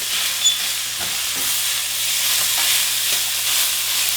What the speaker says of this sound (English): we're going to put our meat in because we want to brown our meat